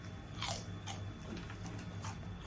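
Close, crisp bites and crunchy chewing on a homemade snack with a vinegar, onion, garlic and chili dip, several distinct crunches spaced across a couple of seconds over a faint steady background hum.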